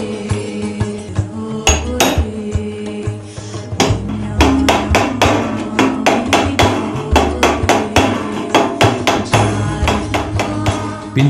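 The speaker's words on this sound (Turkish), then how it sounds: "Şahmeran ustaları bakır tablolara çekiçlerini aheste aheste vurup desen nakşederken çıkan seslerin atölyelerinden birindeyiz şimdi." Craftsmen in a Şahmeran workshop in Mardin tap hammers on copper plates to chase designs, a close series of bright metallic strikes in a steady, unhurried rhythm.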